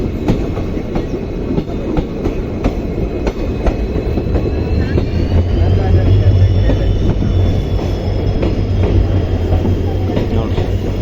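A Shivamogga–Mysuru daily express, train 16226, pulls into Mandagere station, an old heritage stop, with loud rumbling wheels and rhythmic clickety-clack building steadily, a faint squeal of wheels running over the top.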